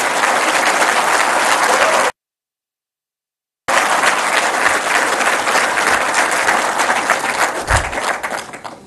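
Loud, dense applause from an audience at a speech by Pakistani Prime Minister Shahbaz Sharif about students, breaking off into brief silence before swelling again and continuing steadily.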